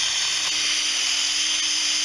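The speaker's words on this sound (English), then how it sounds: "I am drilling through, and then it marks the next board for me." A power drill bores through a wooden board in a garage while building ceiling brackets for floor speakers, giving a loud, steady, close-up whine and grinding that holds evenly without a break.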